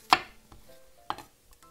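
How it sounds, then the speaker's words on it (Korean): A knife cutting an onion into squares on a board, two sharp close chops about a second apart with a softer tap between, otherwise quiet. "양파를요 반으로 나눠서 요 반은 그냥 사각으로 썰어 주겠습니다"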